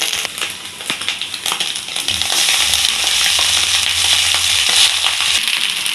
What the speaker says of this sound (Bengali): আমি চাউমিনগুলোকে নেড়ে নেবো